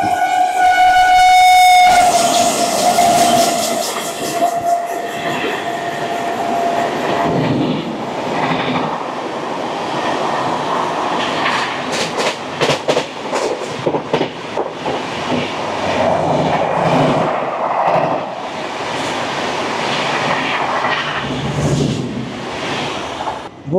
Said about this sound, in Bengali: ভোগপুর পার করলো ট্রেন